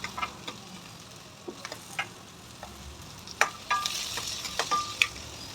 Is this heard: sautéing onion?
yes